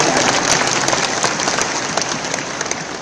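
Steady applause from a crowd at a Kangen Water event, dense clapping that fills the whole stretch with no voices standing out.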